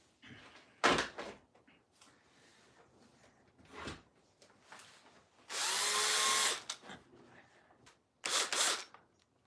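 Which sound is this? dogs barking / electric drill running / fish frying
electric drill running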